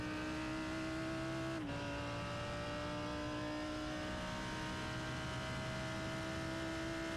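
Race cars circle the Long Beach street circuit in the iRacing sim, a faint, steady engine whine holding pitch with one brief dip, quiet and distant throughout.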